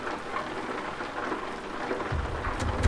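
Steady rain patters in the Euro Truck Simulator 2 video game, a soft continuous hiss with a low rumble swelling near the end, heard alone without talk.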